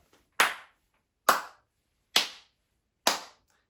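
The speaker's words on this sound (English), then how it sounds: "Okay, so we're going to do some clapping." Four sharp hand claps, evenly spaced about a second apart, each ringing briefly in a quiet room.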